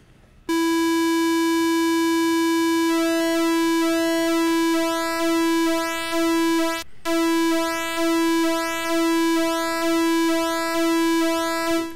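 Voltage controlled oscillator number 2 with its pulse width modulated by another output, a sustained steady synth tone whose timbre shifts in a slow repeating cycle, loud and alone.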